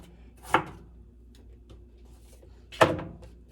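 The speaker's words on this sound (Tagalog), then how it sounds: "Tapos hinihiwa ko din siya ng maliliit talaga." Peeled fruit being chopped into small bite-size pieces with a knife, two sharp, distinct thuds on a cutting board about two seconds apart, close and clear against a quiet room with faint small clicks between.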